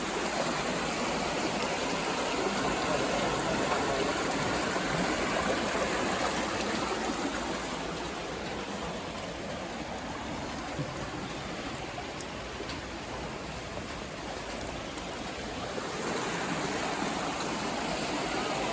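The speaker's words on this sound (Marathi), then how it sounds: "तुम्ही इकडं आता पाण्याचा झोत पाहू शकता किती जो जोरात आहे" A strong stream of water rushing steadily in the Konkan countryside near Goa, a dense continuous roar heard close and unbroken for the whole stretch, with no talk over it.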